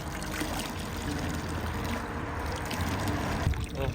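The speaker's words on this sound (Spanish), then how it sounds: "El agua que cae en lo alto de las montañas baja hasta los pueblos y estas fuentes son de agua limpia" Cold, clean mountain spring water flows steadily from a village fountain in the Dolomites, a continuous close trickle and splash that runs throughout with some faint background noise.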